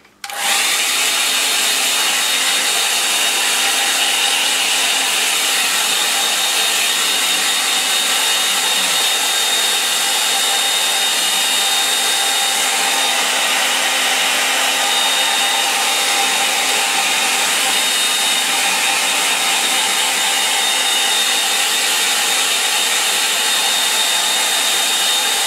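A hair dryer blows steadily and loudly on a line-and-wash watercolour painting of the River Colne, a continuous even whoosh running for the whole stretch with no talking.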